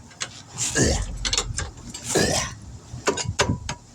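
Wrench ratcheting and clanking while lug nuts are torqued down on a 2001 Honda Odyssey wheel, with several close, uneven bursts of metallic rasping and clicks.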